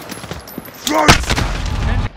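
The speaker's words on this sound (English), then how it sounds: "I'm taking fire!" Gunfire during a team deathmatch in Call of Duty Modern Warfare on the Shoot House map: bursts of shots and a sharp blast mixed with in-game voice callouts.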